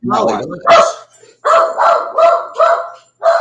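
A dog barks repeatedly in the background, a run of loud, evenly spaced barks with a short whimpering yip, under and between a man's speech in a home setting.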